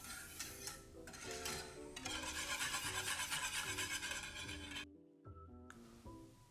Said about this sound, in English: That will take just a couple of minutes of stirring.